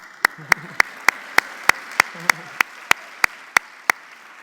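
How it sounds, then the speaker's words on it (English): Single pair of hands clapping slowly and evenly, about a dozen sharp claps at a conference plenary session, with a voice murmuring between them. "This session, you can clap."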